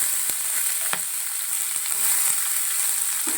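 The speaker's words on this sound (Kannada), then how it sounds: "ಸೊ ಇದಕ್ಕೆ ಈರುಳ್ಳಿನ ಆ್ಯಡ್ ಮಾಡಿ ಫ್ರೈ ಮಾಡೋಣ" Chopped onion frying in a pan for a wheat-flour samosa filling, giving a steady, close hiss of sizzling oil with a few faint clicks of stirring, and no one talking.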